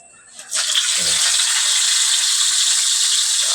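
A sudden loud sizzle erupts as fish hits a hot frying pan, then keeps crackling and hissing steadily.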